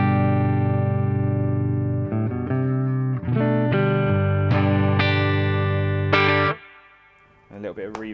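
Electric guitar with a clean tone on its neck-position humbucker, played as a series of sustained strummed chords and ringing notes with light amp reverb, loud and close, ending with a short decaying flourish.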